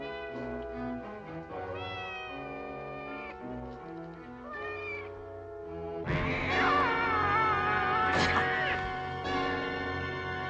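Cat meowing in a 1960 science-fiction film scene, a drawn-out wavering meow rising out of orchestral music, loud and close in the second half after a quieter musical opening.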